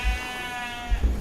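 A goat gives one long, wavering bleat near a campsite in a valley, clear and moderately close, with low rumbling handling noise at the start and end.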